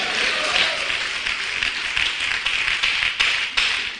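Church congregation clapping in praise, a continuous fairly loud wash of applause with a couple of sharper individual claps near the end.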